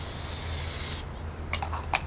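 Plasti Dip aerosol sprays onto a shield as one steady, loud hiss for about a second before cutting off, followed by a few faint, soft knocks and rustles.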